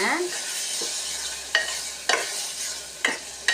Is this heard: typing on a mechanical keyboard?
no